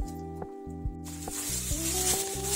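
After a quiet moment, oil starts hissing and sizzling in a frying pan heated for frying yeast-free pirozhki, a bright crackling that continues steadily under a faint background hum.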